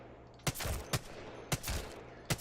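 Gunshots fired at targets in the video game Apex Legends, four sharp single shots spaced unevenly over a couple of seconds against a low steady background hum.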